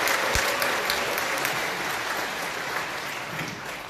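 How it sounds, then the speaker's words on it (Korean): A crowd applauds to welcome a company CEO to the stage at a blockchain meetup event, steady sustained clapping from many hands filling the room for several seconds before gradually easing off. "뜨거운 박수로 맞이해주세요"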